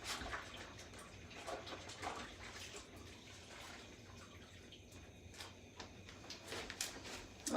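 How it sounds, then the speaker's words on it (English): Tap water runs steadily from a faucet while hands are washed in a kitchen, a soft continuous splashing with occasional drips and clinks, fairly quiet and with no talking. "Let me wash my hands one more time."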